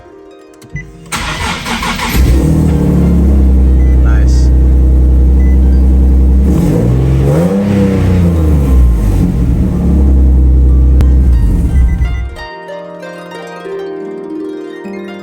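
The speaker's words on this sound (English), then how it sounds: "let's start the car back on and see if it'll start" A Nissan 370Z Nismo with faulty electricals cranks and fires up, then runs at a loud, steady idle for about ten seconds with a slight rev before shutting off, and one person briefly speaks.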